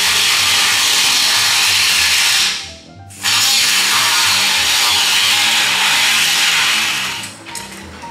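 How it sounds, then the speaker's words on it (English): A pneumatic air saw cuts rusted sheet metal on a 1956 Cadillac, a loud harsh continuous buzz close by that briefly stops and restarts before tapering off. "I get my air saw out. Go ahead and cut it off."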